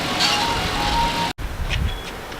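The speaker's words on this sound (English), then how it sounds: "Ice cream truck." Ice cream truck passing on a street near a 1996 Lexus LS400, its faint chiming jingle drifting in over car and road noise, briefly cut out then returning with light clinking tones.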